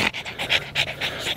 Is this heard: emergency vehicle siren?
no